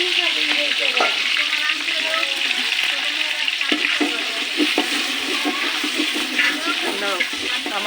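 Spices hiss and sizzle loudly in a pot on a stove, with stirring scrapes and crackles running continuously, and a voice speaks faintly underneath.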